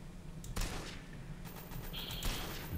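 Gunfire in the MTA: San Andreas DayZ video game, with bursts of rapid shots over a steady engine-like background rumble, fairly close and sustained across the short stretch.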